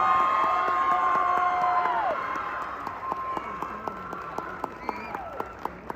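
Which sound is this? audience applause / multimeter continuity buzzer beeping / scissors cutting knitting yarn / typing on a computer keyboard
audience applause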